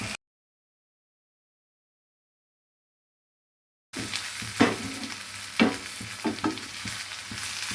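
Hot oil sizzles steadily with a spice tempering after a few seconds of silence, with occasional louder crackles and spoon scrapes as the pan is stirred.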